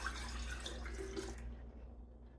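Cold milk poured from a container for homemade milk kefir, a steady close liquid splashing and gurgling that runs continuously, then thins and fades toward the end, with no voices.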